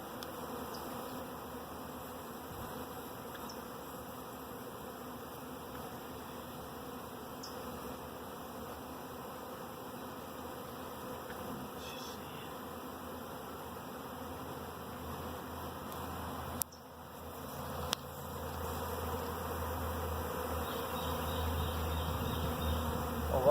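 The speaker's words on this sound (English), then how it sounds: "A lot of bees on the outside here." A honeybee swarm clustered on a tree drones in a steady, dense buzz close by, with a few sharper individual passes and a brief bump near the end, no voices.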